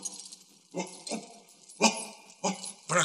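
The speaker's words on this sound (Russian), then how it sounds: "Проклятый пес проснулся и вылезает из домика." A dog in an audio drama stirring awake as it climbs out of its kennel, with a series of short, rough bursts of barking and growling, close and fairly loud, spaced irregularly.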